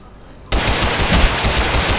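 Loud, sustained automatic gunfire in Totally Accurate Battlegrounds, erupting abruptly after a quiet half second and continuing as a dense, close rattle of rapid shots to the end.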